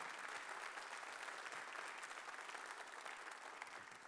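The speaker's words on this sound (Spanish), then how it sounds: "Vamos a ofrecer un fuerte aplauso al ingeniero Rojas." Sustained applause from an audience after a safety talk honoring an engineer, dense and steady for the full four seconds with no break in the clapping.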